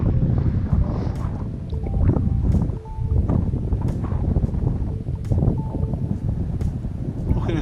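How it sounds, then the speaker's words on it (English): Strong, gusty wind buffets the microphone in a continuous low roar with surging peaks, on an exposed hillside climbing toward Ettrick Pen along the Southern Upland Way in the Ettrick Valley. "sorry about the wind noise, but the wind is getting up the higher we get"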